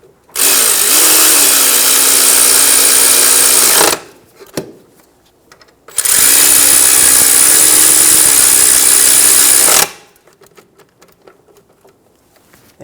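A power tool snugs the bolts on the rear upper control arm of a 2010-2014 Subaru Outback, running in two loud, steady bursts of about four seconds each, separated by a brief quiet gap, close to the listener.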